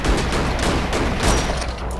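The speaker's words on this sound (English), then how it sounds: "She's shooting back." Rapid bursts of enemy gunfire in the video game Cortex Command, a dense, loud fusillade of overlapping shots sounding continuously for about two seconds.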